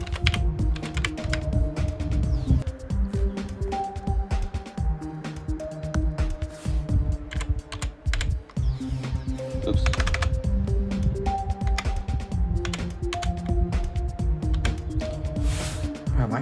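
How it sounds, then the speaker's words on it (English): Fast, uneven typing on a computer keyboard by someone with shaking hands, close and clicky, with a steady stream of keystrokes over a melodic game soundtrack. "That's why I was having a hard time typing."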